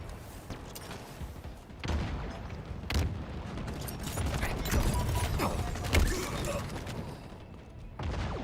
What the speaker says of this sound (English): got the machine gun